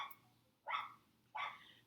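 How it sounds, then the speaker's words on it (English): Two short barks from small dogs, a sharp yappy pair spaced about half a second apart, somewhat distant with a low hum underneath. "And it barks at anybody walking down the street."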